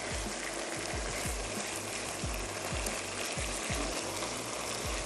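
Matar paneer cooking with whole garam masala sizzles steadily and loudly up close, with a rhythmic low scraping as it is stirred in the pan, no voices over it.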